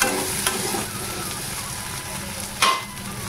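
Black and white raisins fry with potato in a pan, giving a constant close sizzle with a couple of brief louder stirring scrapes and clinks, no one speaking.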